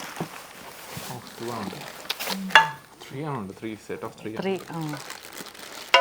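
A newly unboxed non-stick pot is handled indoors: packaging crinkles and the cookware gives a few light clanks, close by, under steady conversation.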